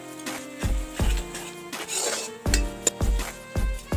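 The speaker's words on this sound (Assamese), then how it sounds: "আৰু এতিয়া এইখিনি ভালদৰে ভাজি থাকিম 2-3 মিনিটৰ কাৰণে।" Ground red chilli, cumin and coriander powder fry in a pan for mutton curry, with repeated metallic clinks and scrapes of a spoon against the pan over a soft sizzle, close and alone.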